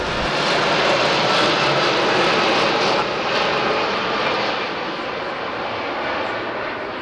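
An airliner near Heathrow roars loudly overhead, a broad continuous jet rumble that holds for several seconds and eases slightly toward the end, with no voices.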